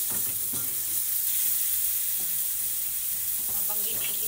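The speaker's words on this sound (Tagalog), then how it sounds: "pinapainit ko kasi magpiprito naman ako ng partner na daing na bunlis bangus." Dried milkfish (daing na bangus) fries in a hot pan with a steady, loud sizzle and crackle that runs throughout, with a few soft stirring knocks and no talking.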